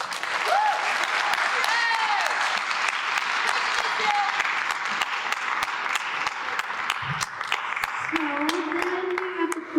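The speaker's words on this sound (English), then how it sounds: "Can you give them a round of applause?" Sustained applause from an audience at a school's fall concert for a beginning orchestra, steady dense clapping lasting throughout, with a few brief voices faintly underneath.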